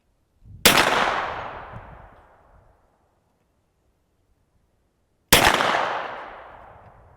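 Two loud, sharp gunshots from a Hi-Point 10mm 1095TS carbine ring out a few seconds apart at an outdoor shooting range, each followed by a long fading echo, with no talking between them.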